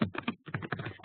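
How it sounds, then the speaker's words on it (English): Fingers type quickly on a computer keyboard, a close, quiet patter of irregular clicking keystrokes with one brief pause midway. "I'm typing as fast as I can."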